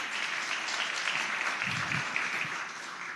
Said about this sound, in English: Kimberly, you definitely deserve 2 rounds of applause.